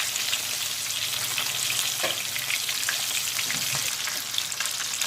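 Tilapia fish fries in hot oil over moderate heat with a steady, dense crackling sizzle that continues evenly throughout, with no talking.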